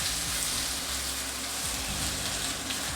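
Beef lo mein noodles sear in a hot wok at a Chinese takeaway, giving a steady, close, dense sizzle and crackle throughout, with occasional soft scraping and stirring and no talking.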